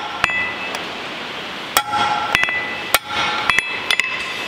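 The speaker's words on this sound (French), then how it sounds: "on va faire un petit test avec quelques coups de marteau" A hammer strikes a steel construction I-beam several times, each blow a sharp, ringing metallic clang that decays, spaced irregularly across a few seconds with no talk.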